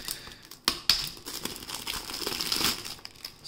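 Thin plastic wrap on a Nintendo Switch game case crinkles up close in quiet, irregular rustles, with a few sharper crackles standing out near the start.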